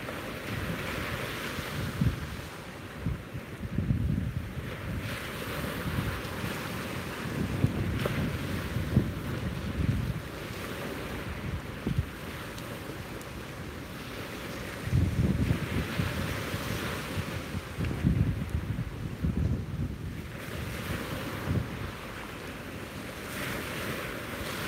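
Ocean waves roll onto a beach in repeated surges about every five to seven seconds, each swell building and then washing back, with wind buffeting the microphone throughout and no talking.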